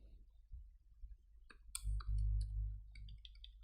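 Computer mouse clicks and keyboard typing while adding a title in Adobe Premiere Pro: a few sharp, quiet clicks and taps scattered over a steady low electrical hum, with no speech.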